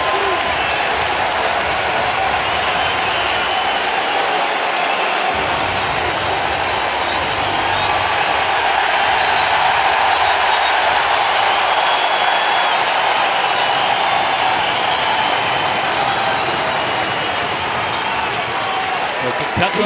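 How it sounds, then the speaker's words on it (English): Kentucky basketball home crowd roaring at a November jump ball in the Kentucky vs Missouri game, a loud sustained wall of cheering and applause that swells through the whole stretch, with faint commentary beneath. "A jump ball doesn't get the crowd ignited like that in November, does it?"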